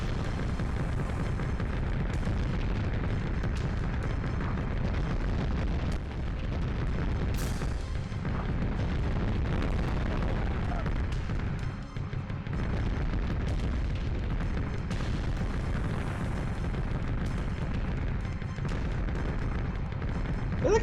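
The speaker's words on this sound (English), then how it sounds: "I feel like I'm just destroying their shopping district for no reason." Rumbling booms and explosions roll on almost without pause as a tank blasts apart buildings in the PS1 game Mass Destruction, heavy, loud blasts overlapping into a continuous barrage.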